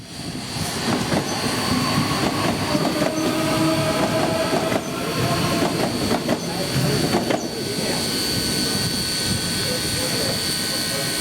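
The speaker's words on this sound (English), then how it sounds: "a City Rail outer suburban train is making its way out of Wollongong" A City Rail outer suburban train pulls out of Wollongong, its steady rumble and wheel noise filling the scene for several seconds with faint squeals, fairly close, and the rumble eases toward the end.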